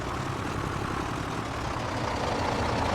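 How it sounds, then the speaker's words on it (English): A loud in-game truck engine from Farming Simulator 22 roars steadily, close and heavy, a dense rumbling drone that fills the whole stretch without any talk over it. "And when that truck is just so loud, we'll just let it blare its way around here."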